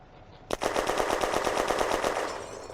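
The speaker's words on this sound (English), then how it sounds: "The gun fires again." A machine gun in a May 1940 wargame battle opens up suddenly and keeps firing in one loud, rapid, evenly spaced burst that runs for over two seconds before easing slightly.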